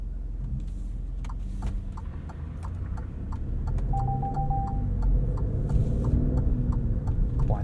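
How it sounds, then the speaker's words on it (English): A 2022 Alfa Romeo Stelvio Quadrifoglio's blind spot monitoring warning sounds as a brief steady electronic tone over the car's engine hum and road noise, with faint ticking clicks throughout. "Blind spot monitoring going off there."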